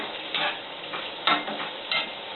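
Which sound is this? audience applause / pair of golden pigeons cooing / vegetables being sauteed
vegetables being sauteed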